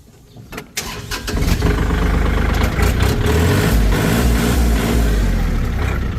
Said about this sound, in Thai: ฟังเสียงเครื่องยนต์ นิดนึง